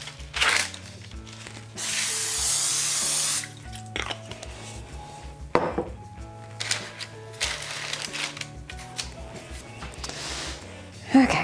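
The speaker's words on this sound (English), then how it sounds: "And spray it with Pam." Olive oil cooking spray is sprayed onto a baking pan for sugar cookies, a close hissing burst of about two seconds, followed by scattered kitchen knocks and clatter with a low hum underneath.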